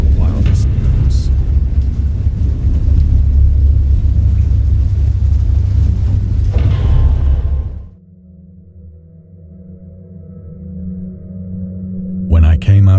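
Thunder in the Lovecraft horror game Dagon: a heavy, continuous low rumble rolls loudly for about eight seconds, then drops off abruptly to a faint hum, with a brief burst of noise returning at the end.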